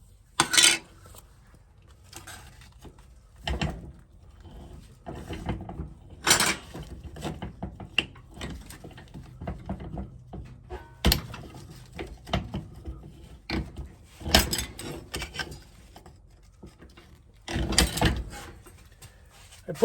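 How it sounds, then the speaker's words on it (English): Cutting a sheet metal patch for a VW Beetle on a cutter: a series of irregular, sharp metallic clanks and clicks with short gaps between them, close by and moderately loud, with no talk. "Now I'll cut it out and then weld it in."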